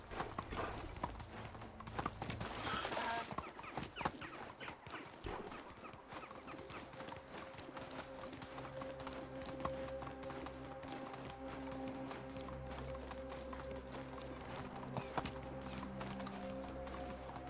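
Donkey hooves clip-clop steadily in Medieval Dynasty, a regular trotting rhythm set against ambient game music and outdoor background sound.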